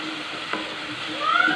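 Tomatoes and masala being stirred in a pan for a tinda dish, a steady sizzle and frying hiss with scraping spoon strokes running throughout, growing slightly louder toward the end.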